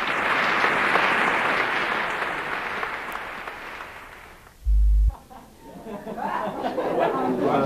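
Enthusiastic concert-hall applause for an orchestra after the premiere of a new work, loud and sustained at first, then fading away before people begin chatting and talking nearby.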